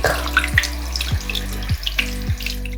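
Tap water running into a sink while a makeup brush is rinsed under it, a steady splashing stream with a low repeating thump every half second or so, close and fairly loud, no voices.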